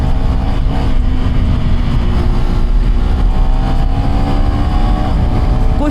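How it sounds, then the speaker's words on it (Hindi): A loud KTM Duke 390 motorcycle engine roars steadily close by, its tone climbing gradually as it revs and pulls away with increasing speed. "करते हैं बाइक को लॉन्च, लेट्स गो।"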